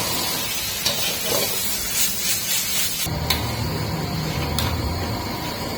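Pork being stir-fried dry in a restaurant wok, a steady broadband sizzle and hiss that swells louder about halfway through as the meat hits the hot pan, with occasional sharp clinks over it.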